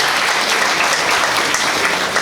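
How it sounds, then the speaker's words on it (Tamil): Audience applause fills an auditorium at a speech event in Tamil Nadu, a dense, steady wash of many hands clapping at close range, with no voices heard over it. "மிகப்பெரிய கைத்தட்டலை இந்த அரங்கம் பதிவு செய்கிறது"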